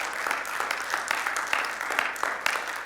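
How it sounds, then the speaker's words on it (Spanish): A church congregation gives steady, dense applause at the close of a Spanish-language sermon service, many hands clapping together throughout, fairly close and sustained. "¿Puede darle un fuerte aplauso al Señor?"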